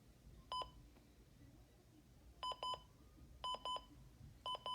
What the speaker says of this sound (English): That's what the alarm clock sounds like on the 300.